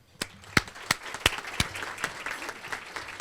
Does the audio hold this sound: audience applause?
yes